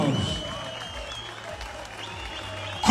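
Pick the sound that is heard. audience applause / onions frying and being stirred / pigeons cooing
audience applause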